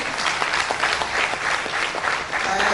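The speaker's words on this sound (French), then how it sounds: "Sous vos applaudissements" Sustained, loud applause from a full conference audience encouraging the opening presenter, with many hands clapping densely and evenly and no pause.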